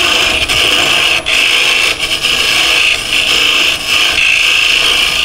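Wood lathe cutting a tenon on a miniature bird house, a steady, loud scraping and hissing of the tool against spinning wood with brief dips as the cut eases, close and continuous with no voices.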